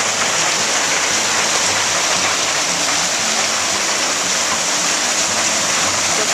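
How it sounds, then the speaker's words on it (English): Storm runoff during Hurricane Irene crashes through a 5-foot driveway culvert pipe into a brook, a loud, steady, broadband roar of rushing water that holds unbroken throughout. "Water is really crashing through the culvert pipe that keeps our driveway open."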